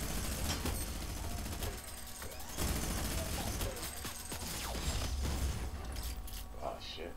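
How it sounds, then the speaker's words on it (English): Fortnite gunfire comes in fast bursts of shots and rattling automatic fire, fairly close and layered with game noise, while voices talk over it. "Someone's shooting."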